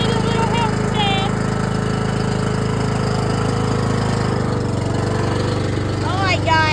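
A Cub Cadet riding lawn mower engine runs loud and steady at close range with a rough, throbbing drone. The pitch shifts partway through, and voices speak briefly over the engine.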